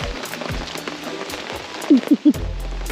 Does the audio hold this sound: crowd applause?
no